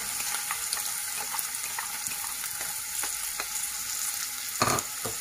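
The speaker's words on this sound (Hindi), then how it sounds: "इनखां पोइ मां हिन में ऑनियन विझंदसि" Onion frying in hot oil in a kadai makes a steady, close hiss dotted with light scraping taps of stirring and one louder knock near the end, with no talking.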